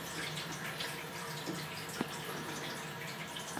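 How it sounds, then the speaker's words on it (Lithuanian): Water runs steadily from a household tap, a constant hissing splash with one faint clink partway through and no voices. "Tai kam tu dabar tu vandenį taip leidė?"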